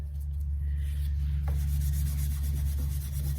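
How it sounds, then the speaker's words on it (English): A gray Scotch pad scrubs Howard's beeswax polish into a worn wooden table's dowels and turnings, giving a steady close rubbing texture over a constant low hum, with no talking. "I'm going to use a gray Scotch pad here,"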